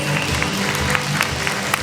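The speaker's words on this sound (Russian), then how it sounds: "Эти аплодисменты мы дарим тебе." Steady crowd applause for a soldier recently returned from Ukraine, continuous and fairly loud with sharp claps rising through the wash.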